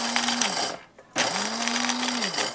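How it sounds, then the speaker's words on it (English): Coffee grinder whirring as it grinds dog kibble into flour, a loud steady motor hum in two bursts separated by a short pause, each winding down at the end. "This is a coffee grinder that we haven't ever used to grind coffee beans."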